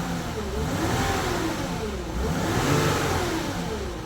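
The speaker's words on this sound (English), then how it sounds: "I'll give it a rev, let's see what happens." An Audi with a DPF fault being revved, the engine climbing into a loud, rough roar and dropping back over a few seconds, heard close and alone.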